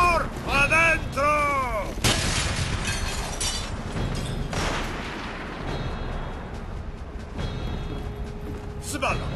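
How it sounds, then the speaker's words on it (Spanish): Gunfire from the World War II shooter Call of Duty: World at War, including a sniper shot, sharp loud cracks and booming reports amid battle noise, with voices shouting early on. "El disparo venía del otro lado del río."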